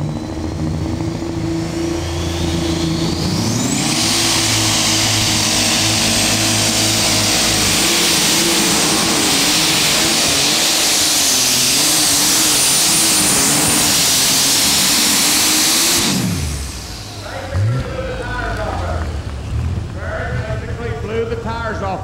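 A pulling tractor engine screams at high revs, a loud, sustained roar that holds steady, then cuts off abruptly to a lower rumbling idle.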